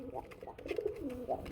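A pair of pigeons at a pigeon market, one cooing in low rolling notes, quiet and close, with background voices.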